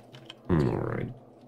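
Computer keyboard typing comes as a quick burst of rapid clicks lasting about half a second, close and fairly loud, after a couple of faint taps.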